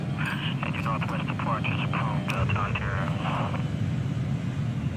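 Aircraft engines drone steadily as airliners land in the Transport Fever 2 simulation, a continuous broadband roar under a voice talking throughout.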